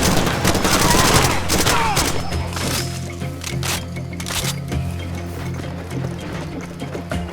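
Enemy gunfire in Far Cry 2, with bursts of rapid automatic shots and sharp cracks that are loudest early on, then sparser reports and mechanical clatter.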